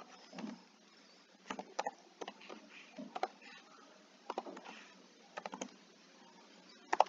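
Keys clack on a computer keyboard in short, irregular bursts as a name is typed into a Jupyter Notebook, the faint, close taps separated by brief pauses.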